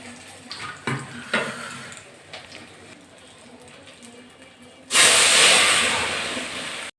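Three or four dried red chilies drop into hot oil for a dal tempering with a sudden loud, steady sizzle after a few quieter clinks and handling noises.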